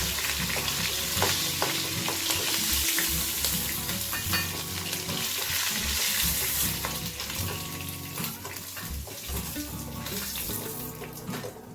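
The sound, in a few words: fish frying in a pan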